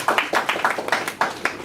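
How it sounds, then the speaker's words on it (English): A small group at a general meeting gives a short burst of hand clapping for the program director, a quick irregular patter of claps lasting under two seconds. "Let's give him a round of applause"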